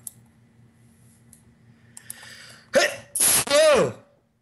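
A sudden loud sneeze bursts out in two or three sharp blasts, close and forceful, after a quiet stretch with faint clicking, during a StarCraft match commentary.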